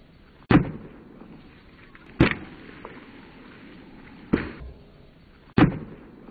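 A crowbar striking a zombie target from the top: four sharp, loud impacts spaced a second or two apart, each a hard crack that decays quickly, with no talk.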